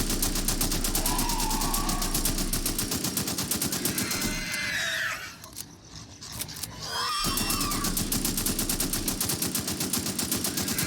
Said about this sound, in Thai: ก็จะเอาปืนที่แบบ ไม่ค่อยมีราคายิงไปก่อนเนาะ